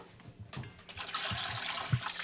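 Hot water poured into a container to dissolve baking soda for a homemade hydrogen generator, a close, steady splashing rush of liquid that starts after a few faint knocks.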